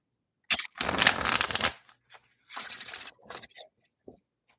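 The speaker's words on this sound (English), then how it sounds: "so let me shuffle" Close, papery riffling of tarot cards being shuffled in a few quick bursts separated by short pauses, with no one speaking.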